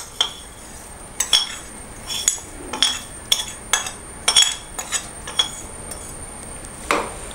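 A spoon scraping and clinking against a metal pot as roasted coconut is mixed into kootu curry, a dozen or so sharp, irregular taps and scrapes close by over a quiet background.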